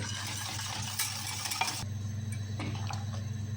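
Milk chocolate sauce being stirred in a pot on the stove, a soft continuous scraping and swishing with light clinks of the spoon against the metal, quiet and close.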